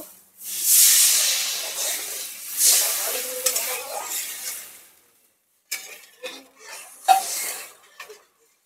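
Fish curry base with cumin paste stirred in a pan, with hissing sizzle and soft scraping in close bursts, a pause of near silence, then a few sharper stirring clatters.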